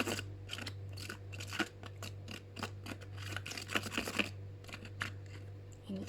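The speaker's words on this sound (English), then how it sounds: "So I use a plastic spoon. Just mix it all up." A plastic spoon stirring homemade slime made without glue gives close, soft squelching and clicking strokes in an irregular steady rhythm over a low constant hum, with no talking.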